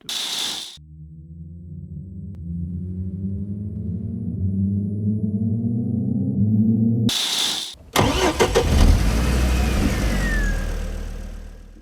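Formula 1 cars at the start of the 2005 Australian Grand Prix: engines idle low, then rise steadily in pitch as they rev, before a loud, dense roar erupts as the field launches off the grid.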